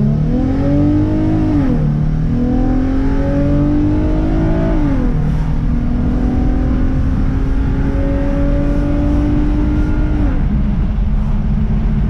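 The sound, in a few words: Infiniti G35 coupe with JDM motor driving on road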